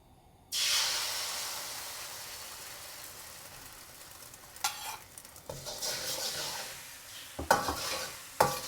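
An egg drops into a moderately hot wok with a sudden loud sizzle that fades to a steady frying hiss, followed by scraping stirs and clatters of a utensil against the metal.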